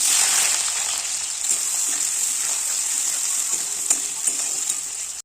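Chopped onions hit hot oil tempered with dried red chillies and five-spice seeds, giving a loud, steady close sizzle that holds throughout with light stirring scrapes.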